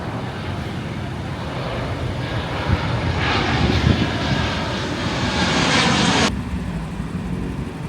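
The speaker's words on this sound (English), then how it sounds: "if you look above, there's a plane coming overhead" A fixed-wing airplane flies overhead near East Midlands Airport by Donington Park, its engine drone swelling steadily as it passes above, then cutting off abruptly near the end.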